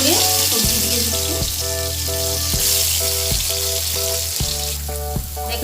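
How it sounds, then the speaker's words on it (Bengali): Vegetables dropped one by one into hot oil for a Bengali vegetable fry, making a steady, close sizzle, with a tonal melody playing over it in regular stepped notes throughout. "এখন আমি একটা একটা করে সবজি দিয়ে দিচ্ছি।"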